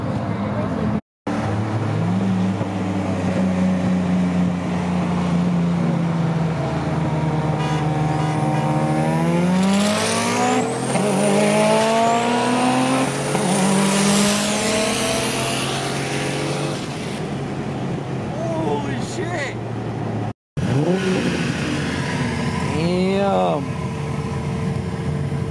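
A 750 horsepower Cobra car driving on the highway at night, its loud engine revving and climbing through the gears in long, rising sweeps, with a brief cut and then more revving, plus people talking over it.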